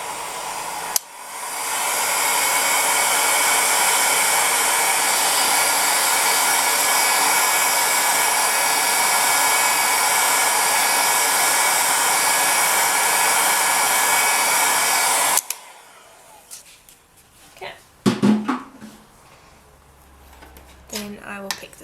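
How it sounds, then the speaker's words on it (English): A heat gun on its lowest setting, drying polymer clay, blows with a loud, steady whoosh for about fifteen seconds, then cuts off, and soft handling sounds follow. "And I'm just going to grab a heat gun."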